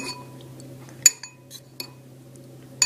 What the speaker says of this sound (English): you're going to have to break the yolks with your fork